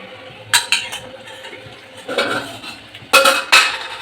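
A spoon stirring yogurt into a pan for Bengali rohu fish korma, with several sharp scrapes and clinks against the metal in short bursts over a quiet background.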